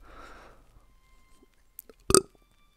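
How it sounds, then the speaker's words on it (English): Someone lets out a single short, close burp near the end, after a soft breathy noise and a few faint clicks in an otherwise quiet room. "Oh, the burps, they're back."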